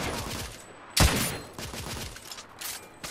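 Gunfire in the video game The Order: 1886: one loud, sharp shot rings out near the one-second mark, followed by fainter scattered shots and a busy battle background with no speech.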